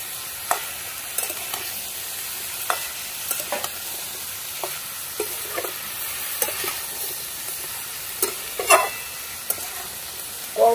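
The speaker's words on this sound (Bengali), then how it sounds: "কেটে রাখা পেঁয়াজ কুচিটা এবার দিয়ে দেবো। সবকিছু একসঙ্গে ভালো করে মিশিয়ে নেব।" Turmeric and chopped onion stirred together in a sizzling pan, with scattered scraping clicks of the spoon over a constant frying hiss, close and fairly loud.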